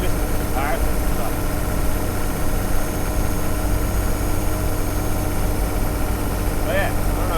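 Diesel Toyota Land Cruiser 80 series engine droning steadily while driving, a low continuous rumble heard from inside the cab, with a voice talking over it.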